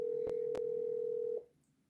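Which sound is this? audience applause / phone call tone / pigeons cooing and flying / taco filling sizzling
phone call tone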